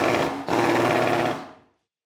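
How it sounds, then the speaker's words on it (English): A power drill runs in an office space, a steady loud whirring buzz with a brief dip midway before winding down and cutting off. "Maintenance Mondays, facilities Fridays, and somewhere, a power drill."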